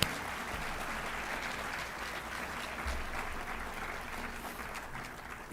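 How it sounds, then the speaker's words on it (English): An audience at a high school academic awards ceremony claps continuously, a dense even wash of applause at moderate distance lasting the whole stretch. "So how about a huge round of applause for those 3 individuals?"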